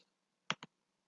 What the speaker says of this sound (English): You have to click here and then click here